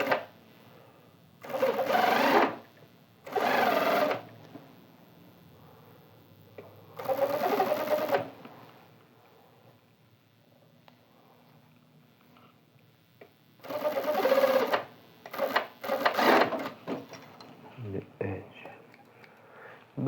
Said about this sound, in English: now we are going to sew where we press